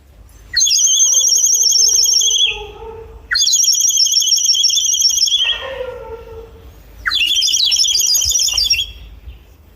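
A clay water-filled bird whistle imitating a sparrow or parrot, making three loud warbling, trilling bursts about two seconds each, separated by short pauses.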